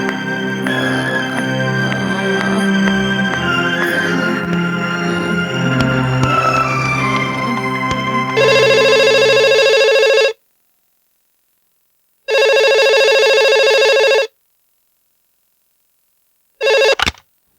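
After a stretch of dramatic background music, a telephone rings on an outgoing call in a Hindi drama scene, with three ring bursts, each about two seconds, separated by silence, the last cut short.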